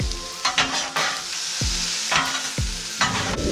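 Onions and mushrooms seasoned with salt and pepper sizzle in a pan beside a pork chop, while a utensil scrapes and clacks against the pan in several distinct stirring strokes over the steady frying hiss.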